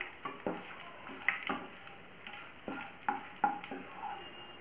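Whole spices and tempering sizzle in hot refined oil for a no-onion, no-garlic paneer and potato curry, with soft frying hiss and several stirring scrapes of a spoon against the pan, close and fairly quiet, no talk.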